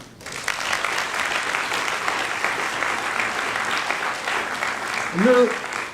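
Audience at a neurology congress in Lille applauds steadily, a dense sustained clapping from a hall full of people, with a brief voice rising near the end.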